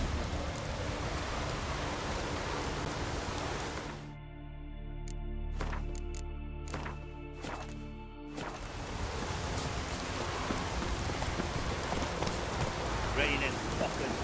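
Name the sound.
heavy rain in the video game The Witcher 3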